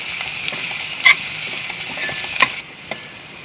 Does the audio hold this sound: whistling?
no